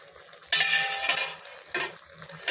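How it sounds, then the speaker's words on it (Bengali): Ridge gourd and coconut stirred in a pan after the lid is lifted, with two bursts of scraping, clattering utensil-on-pan noise over a soft background. "ঢাকনা খুলে নেড়ে নেব"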